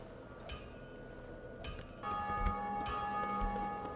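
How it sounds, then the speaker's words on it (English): Church bells in the game Dark Souls, faint metallic strikes that ring out and hang over a quiet ambient background, a few tolls spread out and sounding far away. "There's the church bells."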